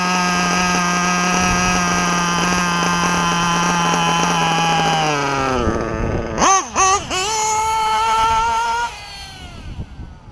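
A nitro engine idles loud and close with a high, buzzing drone, and the pitch falls sharply as the idle is turned down. It then bobs through a few revs before settling and fading out.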